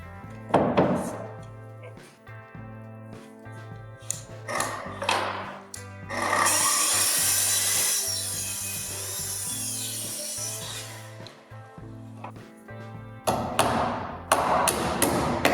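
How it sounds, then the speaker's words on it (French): A wooden plank is sawn to trim it flush with a beam while a wooden garden shed is assembled. A few knocks come first, then a sustained stretch of rasping saw strokes, followed by more sharp knocks, all over background music. "je vais tracer tout le long pour couper un petit peu la planche pour pas qu'elle dépasse par rapport au poutre"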